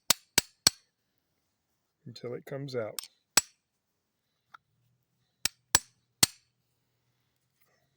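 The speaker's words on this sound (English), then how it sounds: "stick it down in there, tap it with a hammer" Metal hammer strikes on a steel extension rod driven down into a .410 shotgun shell to knock out its old primer: about seven sharp, close, ringing taps spaced irregularly, with a brief spoken phrase between them.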